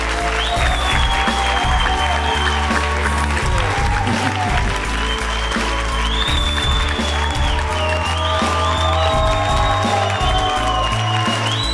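A studio audience at the X-Factor Armenia chair challenge gives loud, sustained applause, mixed with music playing underneath. The clapping stays dense and unbroken throughout.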